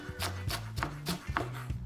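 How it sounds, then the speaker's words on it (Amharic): A knife thinly slicing onion on a board, with about half a dozen quiet, evenly spaced chops in a steady rhythm and no talk. "ሽንኩርቱን በቀጭኑ መክተፍ ነው።"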